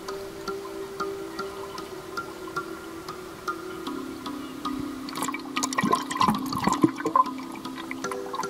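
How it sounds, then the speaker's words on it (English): Slow-flowing Kalangwishi River in Zambia, a steady soft wash of moving water running throughout, growing busier with splashing and gurgling toward the end, heard close and alone. "Here is the river an average slow-flowing river"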